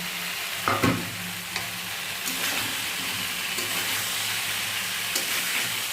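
Fried jackfruit and potato pieces drop into a spice masala sizzling in a pan. A loud splash comes first, then a continuous close sizzle with occasional scrapes of stirring, and no speech.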